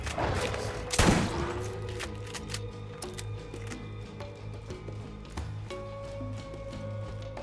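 Shotgun blast in Borderlands GOTY Enhanced, one loud close boom followed by a clatter of game effects and lighter repeated shots, with no talking.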